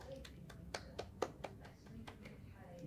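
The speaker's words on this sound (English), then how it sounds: "Give yourselves a big clap for dancing so well today." Scattered claps and slaps from a group of children at a library storytime session, a loose handful of sharp hits over a murmuring room rather than sustained applause, fairly faint.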